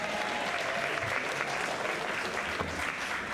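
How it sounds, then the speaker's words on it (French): A talent-show crowd claps for itself in a steady wash of applause, dense and even from start to end, with faint murmurs mixed in. "Vous pouvez vous applaudir vous-même."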